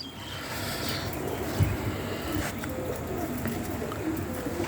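A pair of chocolate gorra pigeons, male and female, coo in low throaty rolling calls close by, continuous and fairly soft over a steady background.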